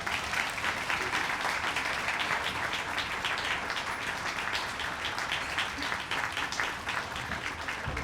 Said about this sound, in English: please join me in welcoming and applauding Professor David Blight